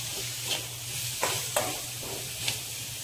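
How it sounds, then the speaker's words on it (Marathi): Coriander-cumin powder, turmeric and salt being sautéed in a pan, giving a soft steady sizzle with a few sharp stirring scrapes and clicks from a spoon, close up and fairly quiet. "आता त्यामध्ये इथे मी धना जिरा पावडर घालून घेतली आहे, पाव चमचा हळद, चवीनुसार मीठ आणि 1-2 मिनिटं छान परतून घ्यायचे"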